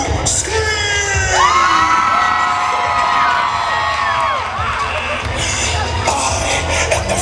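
A large crowd screams and cheers at Halloween Horror Nights at Universal Studios, loud sustained shrieks and whoops rising in long wavering pitches from many voices, swelling again near the end.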